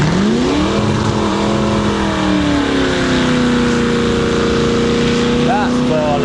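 A Triumph TR6 revs hard in a burnout at the Sywell Classic show, its engine note rising and holding in a loud, sustained drone, with crowd chatter and a commentator's voice underneath.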